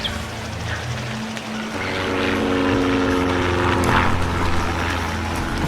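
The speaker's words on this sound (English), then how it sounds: "Looks like it is controlling that model aircraft." Remote-controlled model aircraft propeller in The Rockin' Dead, a steady droning buzz that holds level and rises slightly in the middle, with no voices over it.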